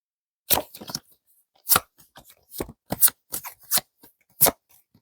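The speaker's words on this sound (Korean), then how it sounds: "카드를 추가적으로 한 번 더 뽑아보고 말씀드릴게요" Tarot cards being handled, with a series of short, crisp card snaps and flicks in irregular bursts, close and fairly loud, separated by silence and with no talk.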